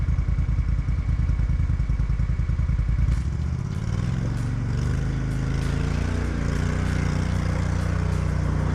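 An off-road buggy engine on Old Telegraph Track churns loudly and steadily, with a rapid rumbling idle that shifts to a heavier, deeper drone partway through and scattered clattering knocks on top; no talking.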